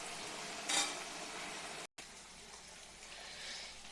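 Ginger, garlic and green chilli paste sautéing in a pan for chicken curry, a soft continuous hiss of frying with one brief brighter scrape of stirring early on, fairly quiet and close, with a momentary cut partway through.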